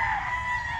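A gamecock stag crows in a brief close burst, a strained tonal call that cuts off quickly.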